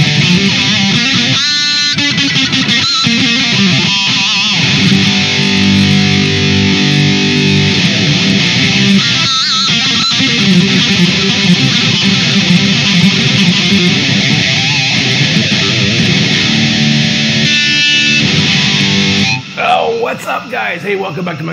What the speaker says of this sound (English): You hear that? Ah, that's the sound of boost